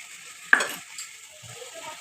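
Ground cumin, coriander, chilli, salt and turmeric frying in a pan, a faint low sizzle with one sharp scrape of a spatula and a few soft stirring sounds.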